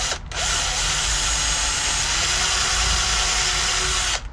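A power drill fitted with a small countersink bit whirs steadily at full speed for about four seconds, close and loud, starting and stopping abruptly with no talking.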